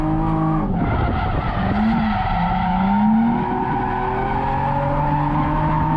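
A car drifting makes loud, sustained tire squeal over a high-revving engine whose pitch rises and falls through the slide, close and continuous.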